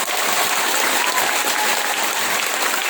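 Loud, dense applause from an audience at SMA Negeri 5 during a church sermon, a continuous wash of many hands clapping at once with no voices rising above it.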